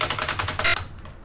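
A computer keyboard being tapped in quick succession, about a dozen close, crisp key and spacebar clicks that stop abruptly after one second.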